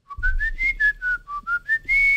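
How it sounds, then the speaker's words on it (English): A person whistles a short, wavering melody directly into a microphone: about eight close, clear notes that rise and fall in quick succession, ending on a held tone, with no speech. "If I whistle, I'll whistle out of the mic."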